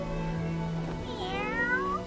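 A ribbon whale in a video game calls with a single rising, wavering cry that sounds much like a cat's meow, heard over a steady droning music bed.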